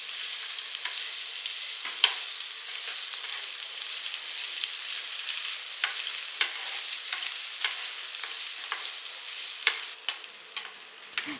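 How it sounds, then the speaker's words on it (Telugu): Ginger garlic paste frying in oil left over from frying fish, a continuous bright sizzle with scattered crackles and stirring scrapes, steady and close throughout. "మిగిలినటువంటి ఆయిల్లో అల్లం వెల్లుల్లి పేస్ట్ వేసి వేయించుతున్నాను"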